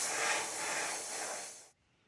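Aerosol spray paint hissing steadily as magenta coats an RC car body shell, one close continuous burst of under two seconds that cuts off abruptly.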